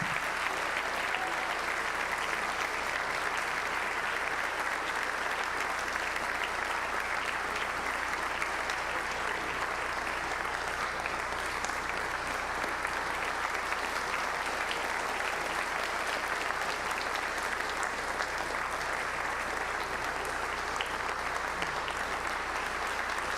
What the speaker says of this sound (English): recognize her with a round of applause